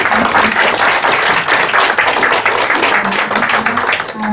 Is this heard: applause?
yes